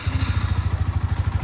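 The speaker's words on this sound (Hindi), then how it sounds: "ये है देखो नॉर्मल पे, ठीक है। अब देखो थ्रॉटल देता हूँ, तो ये हो गई R15 की आवाज़।" Yamaha R15 150cc motorcycle engine running close by, a steady rapid low thumping pulse of the exhaust at a fairly loud, even idle.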